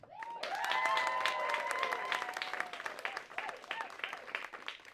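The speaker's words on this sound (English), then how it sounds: "them a round of applause." A comedy club crowd breaks into sustained applause, clapping swelling quickly to a full roar and holding, with scattered cheers and shouts mixed into the dense clapping.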